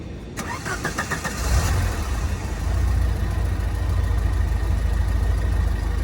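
A 1994 MG RV8 roadster's engine in neutral cranks with a quick chattering starter, catches and settles into a steady, rumbling idle, close and clear.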